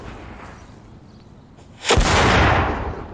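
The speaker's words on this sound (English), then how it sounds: "burn it in a confined space and then channel the explosion down a barrel" A loud, close blast fired down a barrel bursts in suddenly after a quiet stretch, with a sharp booming onset that rolls into a sustained roar.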